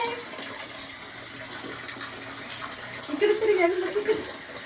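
A child is bathed while water runs steadily into a tub, splashing and pouring throughout, with a voice rising briefly over the water near the end.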